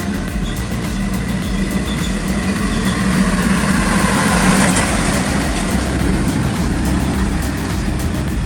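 A giant off-road truck's engine roars as a loud, steady, continuous rumble that swells slightly midway, with no voices.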